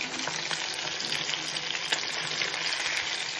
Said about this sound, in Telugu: యాక్చువల్గా నేను డీప్ ఫ్రై చేస్తున్నాను